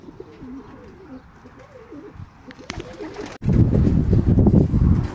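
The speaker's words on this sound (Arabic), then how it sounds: "دي الغرفة اللي فيها الحمام الابيض اللي بخدمة الشركة الفرنسية" White French pigeons coo steadily in a loft with low, rolling calls, then a louder burst of fluttering and shuffling fills the space up close.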